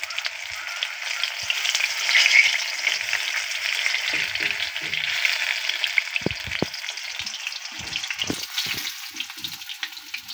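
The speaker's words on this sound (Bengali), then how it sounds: "আর দুটো একটু কম হয়েছে, ওগুলো আমি ভেজে নিচ্ছি।" Banana fritters (kola bou) frying in hot oil give a steady, close sizzle throughout, with a few soft clicks and scrapes as they are turned.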